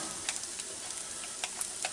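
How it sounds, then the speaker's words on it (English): A steady, quiet sizzle of a pork chop frying in a Ninja Foodi Deluxe cooker, with small irregular pops and ticks scattered across the soft hiss. "it's starting to sizzle and get a brown around the bone and everything."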